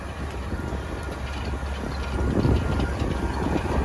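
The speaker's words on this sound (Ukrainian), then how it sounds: "Трактор їде з швидкістю 9 км за годину" Tractor pulling spring-tine harrows during pre-sowing cultivation for soybeans at about 9 km/h, a steady low engine rumble with broadband field noise that grows slightly louder toward the end, no talk.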